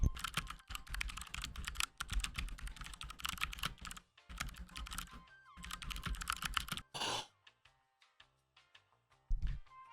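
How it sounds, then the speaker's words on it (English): Rapid, crisp key clacks from an MSI Vigor GK50 Elite mechanical gaming keyboard with a metal backplate, typed in dense bursts with short pauses, then slower isolated keystrokes toward the end. "They actually also sent me one of their Vigor GK50 Elite mechanical gaming keyboards."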